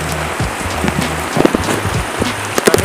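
Rain falls steadily on a surface during a monsoon shower, a dense continuous patter with scattered louder drops and a low humming tone underneath, no voices.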